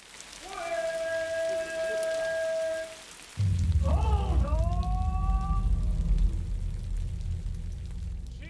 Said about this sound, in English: despite the heavy rain, the Guan Yu temple fair gets underway